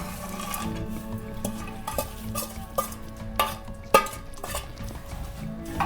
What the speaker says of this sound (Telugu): వేసుకొని ఇవన్నీ మంచిగా కలుపుకుంటాము ఇట్లా కింది నుంచి కలుపుకోవాలి